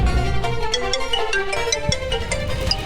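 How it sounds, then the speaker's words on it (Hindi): An electronic ringtone melody plays with repeating tonal notes, fairly loud and continuous, with no voices over it. "तुम्हारा फोन बज रहा है."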